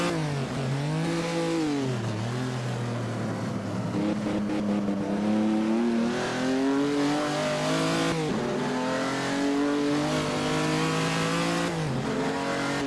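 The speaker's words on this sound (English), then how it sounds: "This engine is very loud. I love the sound of the engine though." A racing car engine in Assetto Corsa roars loudly and continuously, revving up through the gears with repeated rising sweeps and brief dips at each shift.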